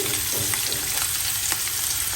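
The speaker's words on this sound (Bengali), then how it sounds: "তো তিনটা মাছ ভাজবো" Fish frying in a pan for a home meal, three pieces at once: a dense, steady oil sizzle runs throughout, close and fairly loud, with a few light crackles and spatters poking out.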